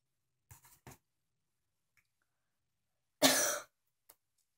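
A few harsh coughs after swallowing a whole spoonful of ground cinnamon: two short coughs, a pause, then one longer, loud rasping cough and a final small one, heard close with no talk.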